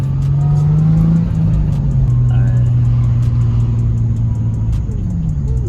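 A Nissan 350Z pulls off on a short drive, its engine droning steadily and close from the cabin as it accelerates, with a low rumble throughout and brief light clicks over the top.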